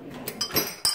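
A spoon stirs grenadine into milk in a glass, giving a few light, quick clinks of metal against glass within a second, close and clear.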